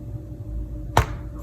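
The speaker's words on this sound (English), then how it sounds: "Oh, nice click here." A single crisp click from an iPad Magic Keyboard as it is snapped into position, close and brief against a quiet room.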